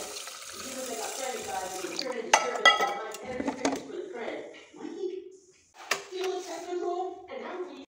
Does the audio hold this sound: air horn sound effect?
no